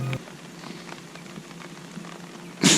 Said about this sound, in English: That was a nice little stroll along the beach in the rain